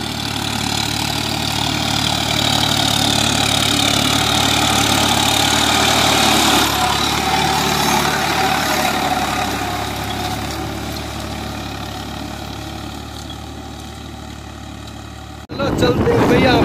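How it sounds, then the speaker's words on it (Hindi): A tractor engine idles and runs steadily on a rural road among the sand dunes of Rajasthan, a loud continuous mid-pitched drone that eases off slightly before a sudden jolt near the end. "ये आ गया देखो एक ट्रैक्टर,"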